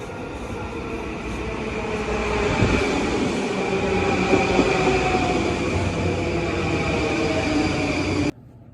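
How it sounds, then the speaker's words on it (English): Inside a Long Island Rail Road commuter train, a loud, steady rumbling roar of wheels and carriage fills the ride before cutting off abruptly near the end; no one speaks. "Didn't really want to say anything on the train because it was just so loud."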